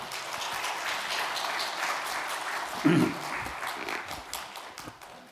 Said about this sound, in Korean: 함께 박수로 맞이하시겠습니다